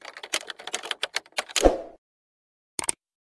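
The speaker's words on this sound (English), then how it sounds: "Once you are done with typing," Rapid, uneven clatter of keys typed on a computer keyboard, close and clear, followed by a louder keystroke, a pause, and a final short double tap.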